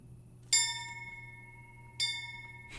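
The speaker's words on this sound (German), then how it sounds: "dann läuten wir mal das Glöcklein" A town hall bell rung in the video game Kingdom Come: Deliverance, giving two clear metallic strikes about one and a half seconds apart, each ringing on and decaying over a faint background hum.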